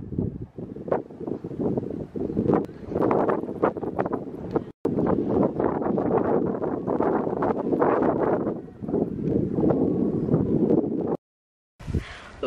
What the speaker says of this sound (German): Es ist so windig, deswegen verstecke ich mich gerade schon wieder im Auto